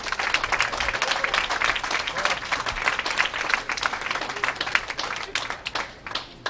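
An audience at the 2016 PWBA Lincoln Open bowling stepladder finals applauds for a bowler, a full, continuous round of clapping from a sizable crowd with a few scattered voices underneath.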